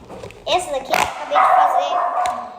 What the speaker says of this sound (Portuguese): Esse é o barulho da cachorra latindo